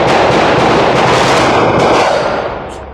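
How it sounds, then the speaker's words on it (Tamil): A firecracker goes off during Diwali with a loud, dense crackling blast that stays strong and then fades away over about three seconds. "இந்த வெடி வெடிச்சது எதுக்கு தெரியுமா?"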